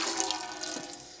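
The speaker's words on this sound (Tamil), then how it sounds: "தண்ணி ஊற்றிக்கிறோம்." Water poured into millet flour to make dough for puris, a short splashing, trickling pour heard close and alone, tapering off after about a second.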